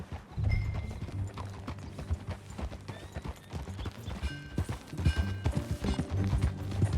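Horse hooves clip-clop at a steady gallop through the whole stretch in Red Dead Redemption 2, loud and close, with a brief snort or whinny and background game music.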